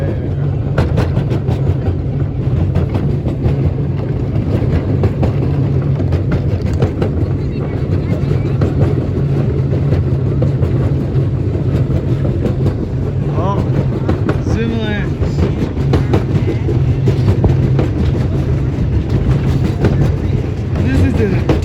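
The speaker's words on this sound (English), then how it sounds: "This is the diesel locomotive running on weekdays." A diesel locomotive hauls a park railroad train along the rails with a steady low engine drone and rolling rumble, close and continuous, with faint clatter and distant voices.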